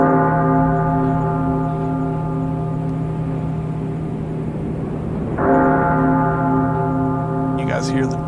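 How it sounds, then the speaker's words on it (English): A church bell rings with a long, humming resonance that sustains and is struck again partway through, heard alone at a moderate distance. "You guys hear the dong of a bell."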